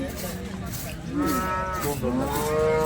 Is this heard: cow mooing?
yes